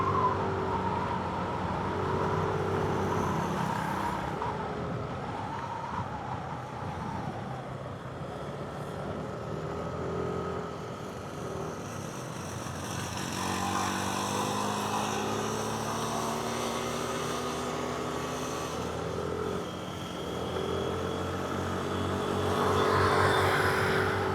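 A tricycle engine labours uphill on the winding mountain Marilaki Highway, a steady moderate motor drone with shifting pitch and passing traffic, continuous for the whole stretch and without speech.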